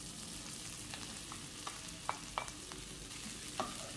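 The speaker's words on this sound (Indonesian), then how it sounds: "Kalau sudah mulai layu, baru kita masukkan baksonya, bakso yang udah kita iris-iris tadi." Sliced beef meatballs stir-fried with red chilies and wilted vegetables in a pan, a steady close sizzle with a few sharp clinks of the spatula scraping and stirring.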